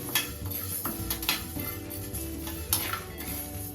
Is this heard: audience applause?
no